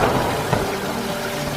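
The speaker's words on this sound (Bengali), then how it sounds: "এদিকে বনে প্রচণ্ড ঝড় বৃষ্টি শুরু হয়।" Heavy cartoon rainstorm pouring down in a forest, a steady dense wash of rain noise filling the short moment with one brief thump partway through.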